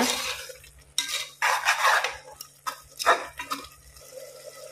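Chili, coriander and cumin powder masala frying and being stirred in a pan for a chicken gravy, with repeated scraping strokes and clatter of a spoon against the pot, loud and close with short pauses between bursts.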